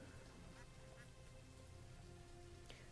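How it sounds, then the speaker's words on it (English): Faint duck quacks from a small flock in the video game Banished, a few brief calls scattered over a dense, steady wash of rain-like ambient noise. "Those ducks?"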